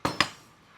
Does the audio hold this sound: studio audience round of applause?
no